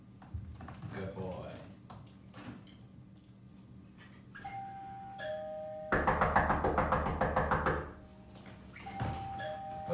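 Household doorbell chimes ringing twice during Labrador training, bright tones over room noise and movement, with a person talking in the background.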